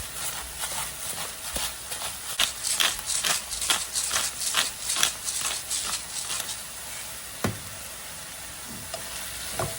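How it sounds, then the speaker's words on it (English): Stuffed bell pepper filling with basil, salt and pepper being stirred as it fries in a pan, a steady sizzle with rhythmic scraping strokes of the spoon, loud and close. "Keep stirring."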